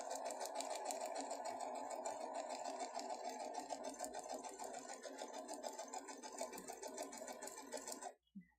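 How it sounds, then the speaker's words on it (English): A sewing machine stitches fabric in a fast, steady whir, close and fairly quiet, and stops abruptly at the end. "So let's go ahead and sew this in place."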